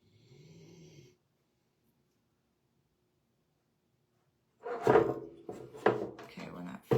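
A dog snores with a rhythmic, low rumbling breath for about a second, then silence follows before a person starts talking loudly nearby.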